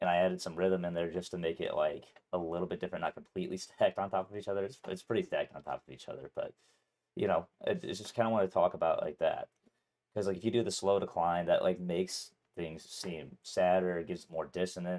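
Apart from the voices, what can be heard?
No everyday noises stand out.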